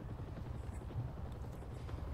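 Helicopter in the video game Marvel's Spider-Man 2, a low, steady rotor rumble that hovers at moderate distance and stays fairly quiet without a break.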